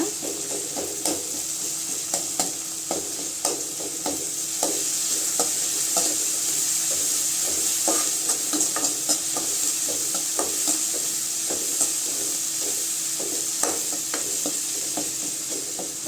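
Chopped tomatoes and tomato sauce frying in oil for bread chilli, a constant close sizzle broken by regular scraping strokes of a spoon stirring the pan, with no talking.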